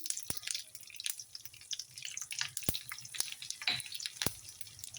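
Mustard seeds, chili and ginger sizzling in hot oil in a pan, with steady frying hiss and sharp scattered pops and crackles close by.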